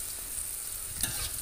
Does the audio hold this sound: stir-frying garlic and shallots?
yes